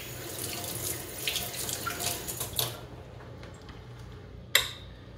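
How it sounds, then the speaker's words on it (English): Water runs from a tap into a sink while a stirrer is rinsed during home C-41 color film developing, a close hissing flow for under three seconds, then quiet with a sharp tap near the end. "rinse my stirrer."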